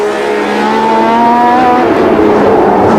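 A year-old championship-winning Ferrari Formula One car screams past at the Long Beach United States Grand Prix West, its loud, high engine note sliding downward as it moves away.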